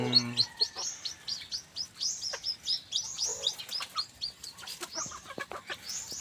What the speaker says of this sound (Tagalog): tumalon yung isang sisiw kakalabas lang sa itlog